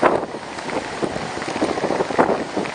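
Heavy rain and gusting wind during Tropical Storm Isaac in 2012, a loud, dense roar of rainfall with buffeting wind noise on the microphone, steady and close throughout, with no speech.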